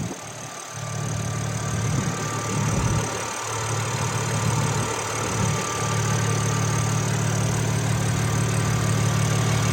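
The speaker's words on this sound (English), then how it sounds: "here's the heart of the beast, the BMW S58, 3-liter inline 6 twin turbo engine." A BMW S58 3-liter twin-turbo inline six in a 2022 M3 Competition xDrive idles steadily and close up, a dense low rumble that stays even throughout with a few faint dips in the first half.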